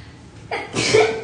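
A single close sneeze with a short sharp intake followed by a loud burst that tails off, heard during a casual live stream, with no speech around it.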